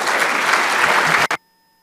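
Audience applause welcoming Prime Minister Gonzalez at a conference on the future of Europe and the crisis in Ukraine, a dense steady burst of clapping that cuts off abruptly after a brief final flurry.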